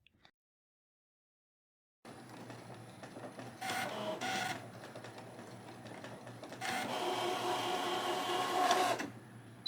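An electronic cutting machine slices quilt fabric pieces held on a mat. After a silent start, a steady motorized whir and buzz rises and falls in long passes, close and continuous, with no talking.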